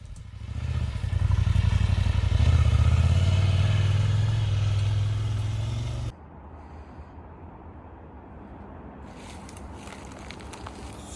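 A Husqvarna Norden 901 motorcycle rides a tight, technical off-road trail, its engine revving loud and close for about six seconds before cutting abruptly to a quieter rumble and clatter.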